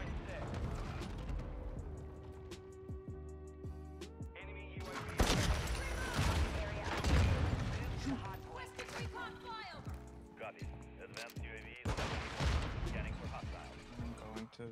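LAB 330 sniper rifle fire in Modern Warfare 2: a few heavy booming shots with echoing tails over a busy gameplay soundscape, with a voice talking through it.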